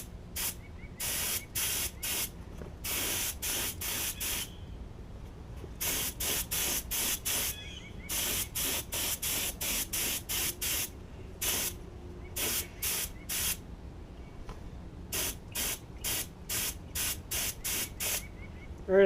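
Air spray gun painting parts for a REO engine restoration, a series of sharp hissing bursts of varied length, some quick and clustered, others longer, separated by short quiet gaps.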